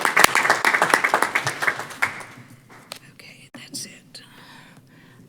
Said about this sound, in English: I would like to applaud you again.